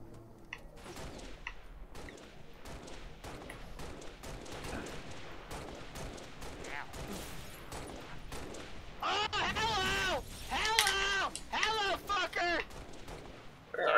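Rapid gunfire and artillery-like blasts in a Halo multiplayer match keep up a steady barrage of sharp bursts, with heavier, louder volleys near the end while players talk over it.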